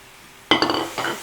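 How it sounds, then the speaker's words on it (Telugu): Raw chicken is dropped into a pan of frying onions for an onion chicken curry, making a sudden loud clatter and sizzle with a second burst of scraping and hissing as it settles. "ఇప్పుడు దీంట్లో చికెన్ వేసుకోవాలి"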